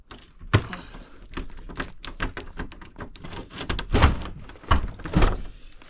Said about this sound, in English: Let's try to open up this door